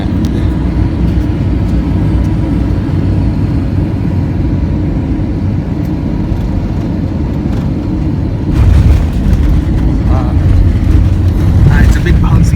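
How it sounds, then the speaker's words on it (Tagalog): Airliner landing at Cebu, a loud, steady cabin roar of engines and airflow dominating throughout, with a heavier rumble and rattle in the final seconds as the plane settles; voices are faintly present under the noise. "So guys, we are landing."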